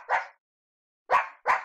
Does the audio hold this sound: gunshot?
no